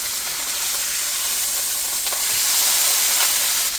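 Sopapilla dough sears in a hot pan with a loud, steady sizzle and hiss that swells slightly toward the end, with no voices.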